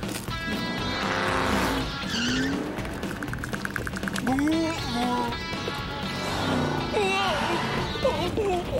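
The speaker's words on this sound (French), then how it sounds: "Cette limousine tient très bien la route." A cartoon limousine speeds along the road with a revving engine and squealing tires, while excited voices and sound effects play over the driving noise.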